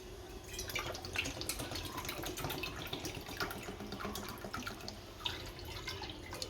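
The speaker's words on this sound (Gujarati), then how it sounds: "ગેસ ઉપર તવલું મૂક્યું છે, એમાં આપણે પાણી નાખશું" Water runs and splashes steadily into a pan on a gas stove, a continuous trickling pour with faint dripping, close by and moderately quiet.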